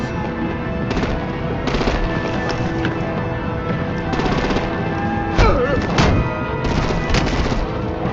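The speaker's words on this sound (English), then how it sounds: "Break out the artillery and disable their vehicles!" Dense gunfire and artillery in Batman: The Enemy Within, rapid repeated shots forming a steady, loud barrage with heavier booms partway through, mixed with game music and effects.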